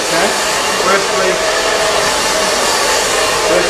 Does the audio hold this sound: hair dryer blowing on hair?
yes